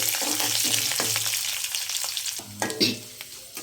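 Seven or eight garlic cloves and two sprigs of curry leaves fry in hot oil with dried red chillies, a close, steady sizzle broken by repeated scraping stirs and light clinks of the spoon against the pan.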